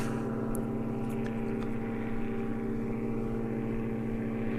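A Blackburn Buccaneer Cold War jet fast-taxiing at Cotswold Airport, a loud steady engine drone with strong tonal hum throughout and faint higher whistles, heard from nearby without speech.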